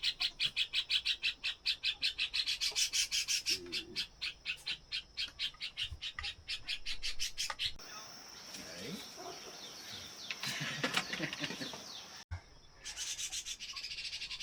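Caged birds at a rural Vietnamese family home beside a traditional water wheel chirp in rapid, steady repeated notes, close and fairly loud, then give way to scratchy rustling and return near the end.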